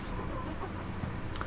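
Chickens cluck softly and intermittently close by, short murmuring clucks over a steady background hum.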